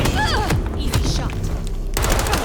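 Gunfire in the action game Vampire the Masquerade Bloodlines 2, a rapid burst of sharp shots over music and game noise, with voices shouting amid the combat.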